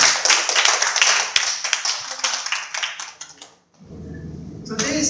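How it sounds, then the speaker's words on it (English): A crowd claps in dense applause for a few seconds, then it stops, leaving a brief hush before a low murmur of voices. "can you also give me a round of applause?"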